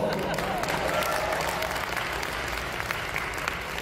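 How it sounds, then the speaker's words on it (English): An audience at a fan convention panel breaks into loud applause, a dense, sustained roar of many clapping hands heard close and at a steady level throughout. "Applause!"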